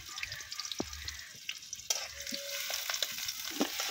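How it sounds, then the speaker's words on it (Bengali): Chopped onion fries in a generous amount of oil, a steady sizzling hiss that swells after a sharp clatter midway, with light stirring knocks and a faint drip of water in the background. "তো এখন আমি তেলের মধ্যে দিয়ে দিব পেঁয়াজ কুচি"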